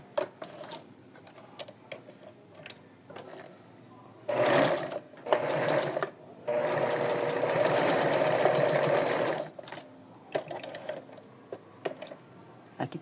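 A sewing machine stitches the back and shoulder pieces of a small doll dress in short bursts, a few brief rattling runs followed by one longer steady whir, close and clear with quiet pauses between.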